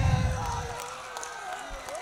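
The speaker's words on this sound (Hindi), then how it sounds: "गोटे जोरदार ताली आसू देखा" Cheering and applause from a crowd at a live stage event in Chhatabar, Odisha, loudest at the start and then fading into a steady, diffuse roar of voices and claps.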